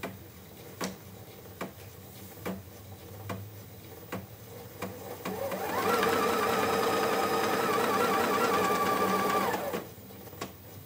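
A sewing machine stitching cutwork on a fabric bag: after several soft, spaced clicks and taps of setup, a steady, fast mechanical whir of stitching runs for about four seconds at moderate level, then stops.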